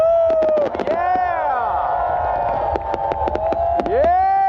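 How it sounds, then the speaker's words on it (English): Fireworks bursting over a Burning Man night crowd, several sharp cracks clustered early and more near the end, with whistling tones sweeping through and people cheering and calling out throughout. "Ooh, blue fireworks are pretty."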